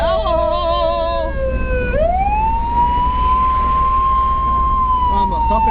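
Police car siren behind a moving car during a traffic stop, a loud close wailing tone that dips low and then holds a long steady rising pitch over road rumble, with a brief chirp at the end.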